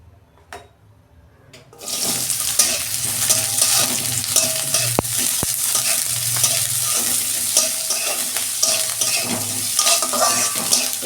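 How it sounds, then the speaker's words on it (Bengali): Onions sizzle loudly in hot oil in a pan for a shrimp curry, starting abruptly after a couple of quiet seconds and then holding a steady, close crackle with occasional stirring scrapes. "তেল দিচ্ছি, আমি পেঁয়াজটা ভেজে নেব।"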